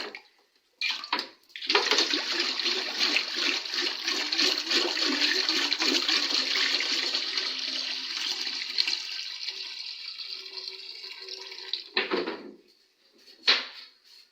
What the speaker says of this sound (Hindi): सबसे पहले हम डालेंगे पानी।